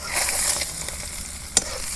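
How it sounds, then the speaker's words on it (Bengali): Country chicken eggs fry in a pan with a steady, close sizzle and hiss, punctuated by one sharp scrape or tap of a spatula near the end, no voices. "এই দেখো অনেক সুন্দর করে আমি ডিমগুনা ভাইজা নিতেছি"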